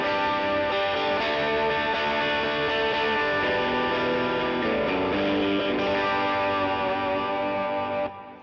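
Electric guitar running into a green overdrive pedal with a boost engaged, giving a cleaner but still driven tone; sustained chords and note changes play loudly for several seconds, then fade at the end.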